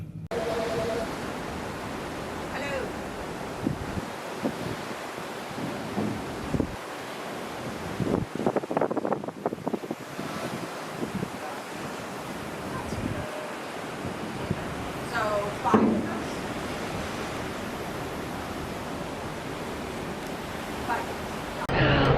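Sea waves and strong wind heard from the deck of a cruise ship, a constant loud roar of rushing air and surf with gusts buffeting the microphone and a voice speaking briefly within it.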